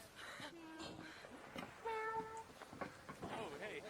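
A player in the video game Arc Raiders meows over voice chat, several short, faint human cat imitations mixed with quiet game sounds and other voices.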